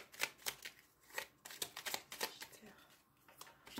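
Tarot cards drawn and flipped from a deck during a horoscope reading, a series of crisp papery snaps and slides repeating every half second or so, close by, while someone talks quietly between the flicks.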